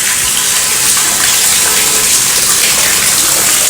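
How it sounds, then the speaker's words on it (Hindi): Dense, steady rushing of heavy rain, loud and continuous with no pauses. "बहुत ज़्यादा तेज़ बारिश हो रही है"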